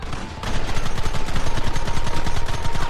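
Rapid gunfire rings out in the video game Red Dead Redemption, a dense rattle of repeated shots that starts after a brief quieter moment and keeps a steady, loud, close rhythm to the end.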